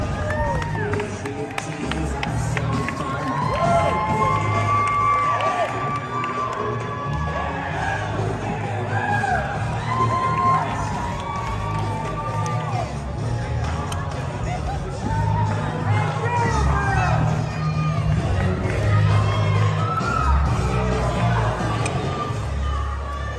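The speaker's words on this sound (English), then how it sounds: "And look at the response they're getting from this crowd." Arena crowd at a wrestling event roaring and yelling for the tag team champions, a dense, steady wall of cheers and whoops that stays loud throughout.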